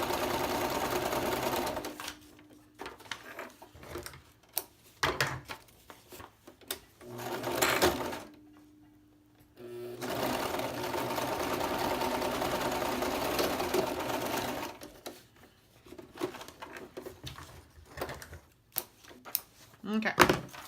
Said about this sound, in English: I try to do 3 pages with stitching